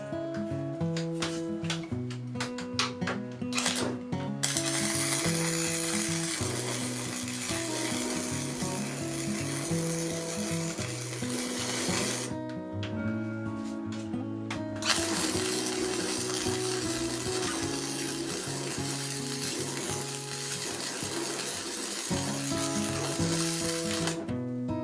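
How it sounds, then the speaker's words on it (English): Arc welding on the corners of a Go Mai Damascus knife billet, a steady crackling sizzle that cuts out briefly twice, with music playing underneath. "we're going to weld up this corner here, and then our back corner"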